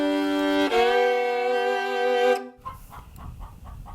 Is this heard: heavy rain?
no